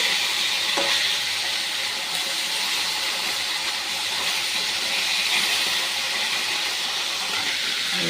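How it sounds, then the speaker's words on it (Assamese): Fish frying in a pan for a home lunch, a steady broadband sizzle and hiss running continuously and fairly loud throughout, with no talking. "এতিয়া মাছ ফ্ৰাই কৰি আছোঁ।"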